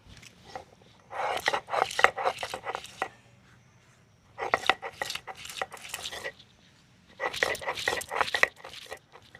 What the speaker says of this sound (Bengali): মশলার মধ্যে আদা রসুন সর্ষে আর গরম মশলা এইগুলো বেটে নেব